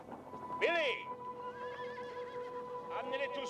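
Horses neigh twice, loud and close, with a shrill whinny early on and a second one near the end, over faint clip-clopping hooves and a steady background tone.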